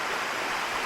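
Steady broadband rush of Sticky Waterfall near Chiang Mai, Thailand, a continuous even roar of falling water with no other sounds.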